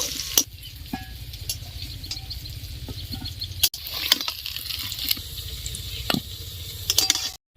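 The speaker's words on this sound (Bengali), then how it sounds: "এইরকম করে আলুগুলো ভেজে নিয়েছি হয়ে গেছে এবার তুলে নেব" Potatoes fry in hot oil, a steady crackling sizzle running throughout with a few sharper clinks and scrapes of a utensil against the pan, no talking.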